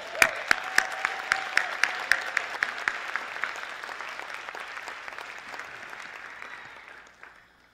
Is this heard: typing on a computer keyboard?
no